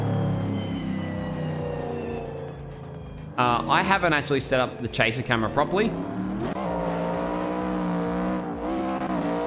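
A loud race car in the Assetto Corsa driving game roars throughout, its engine note rising and falling with revs and gear changes while someone talks over it.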